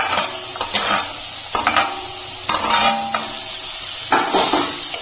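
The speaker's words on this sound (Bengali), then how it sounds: "মশলাটাকে একটু কষিয়ে আমি মাছগুলো দিয়ে দিচ্ছি।" Prawns sizzling and being stirred through a turmeric spice paste in a pan, with loud repeated scraping strokes of a spatula against metal over a continuous frying hiss, close and prominent.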